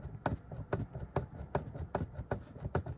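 Car centre console and dashboard panel creaking while being pressed, a regular series of dry plastic creaks and ticks about twice per second, close and fairly loud with no talking.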